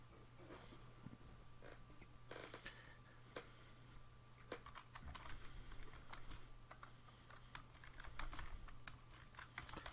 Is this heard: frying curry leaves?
no